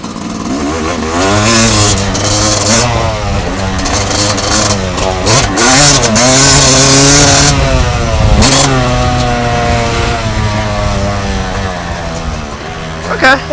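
A Yamaha YZ250 two-stroke dirt bike revs hard at a motocross track. The engine climbs and falls in pitch again and again between jumps. It is loud and close, with a person talking over it.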